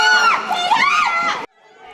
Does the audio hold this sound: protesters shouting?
yes